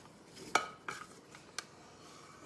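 A plastic scraper working around a mixing bowl of freshly milled wheat bread dough, making a few soft, sharp knocks and scrapes spaced apart, close and fairly quiet.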